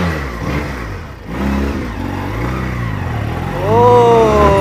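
A used motorcycle's engine revs steadily up close, with a rising rev toward the end.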